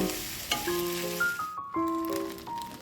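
Food sizzles in a hot pan while a utensil scrapes and clatters against the metal in irregular stirring strokes, close by.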